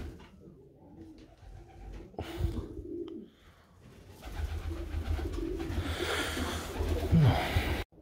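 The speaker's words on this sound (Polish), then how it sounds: "O, jakie wysolutkie gołębki." Pigeons coo softly in a dovecote amid a busy, rustling background, with low murmuring calls repeating and growing louder toward the end.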